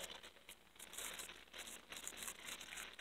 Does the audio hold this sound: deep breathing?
no